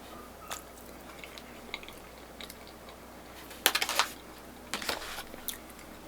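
Close, quiet chewing of crispy flat-top hash browns with peppers, with soft crunches and a few sharper bursts of biting at an uneven pace, and no talking.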